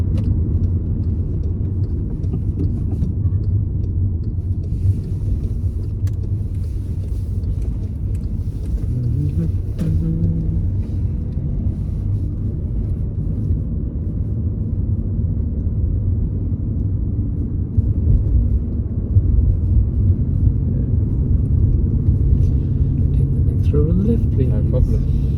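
Steady low engine rumble and road noise from inside a car on a mock driving test, continuous throughout with a slight swell near the end, while an instructor talks over it.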